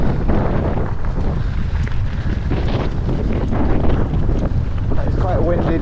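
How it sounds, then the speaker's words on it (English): Strong wind roars and buffets the microphone on a mountain bike trail at Nevis Range, a loud, constant rushing blast with no letup and faint talk buried beneath. "It's quite a windy day."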